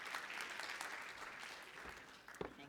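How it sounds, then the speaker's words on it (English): An audience at a South African medical technology conference claps for a trade and industry official, a faint, steady wash of many hands with a few sharper claps near the end. "Let's give him a round of applause."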